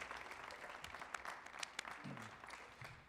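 Quiet, thin applause from an audience at a dance performance on a stage, with scattered individual claps and a few louder hand strikes standing out, heard faintly and at a distance.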